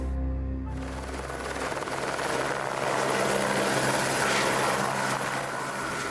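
A helicopter flies overhead with a loud, steady rotor thrum and engine roar that swells slightly and holds throughout.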